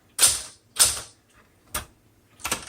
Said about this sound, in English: Love this typewriter.